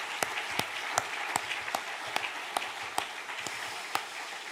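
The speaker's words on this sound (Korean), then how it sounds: "우리 뜨거운 하나님께 감사의 박수 한번 보내겠습니다" Applause during an early-morning church revival service: a crowd claps steadily with sharp, evenly spaced louder claps standing out above a dense wash of hands, no talking over it.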